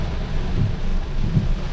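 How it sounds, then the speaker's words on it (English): Heavy rain pours down outdoors during work on turning a trailer into a chicken coop, a dense, steady roar of rain and gusting wind filling the clip at close range with no pauses. "This is raining way harder and more than it was supposed to today."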